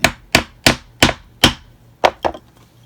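A mallet strikes a chisel punch into black alligator and green cowhide leather for a ladies' clutch, giving five evenly spaced sharp knocks, a short pause, then three quicker hits, close and crisp with no talking.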